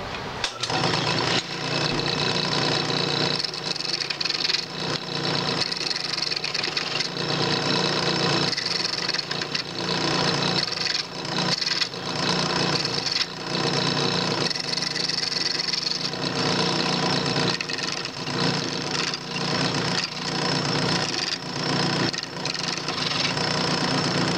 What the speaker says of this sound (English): let's go at this with my rough and gouge